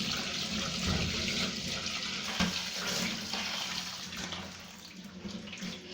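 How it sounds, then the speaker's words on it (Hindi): Tap water runs steadily over drained boiled elbow macaroni in a pot, a continuous close splashing rush with no talk over it. "पानी निथार के एक दफ़ा इसके ऊपर से पानी बहा देंगे,"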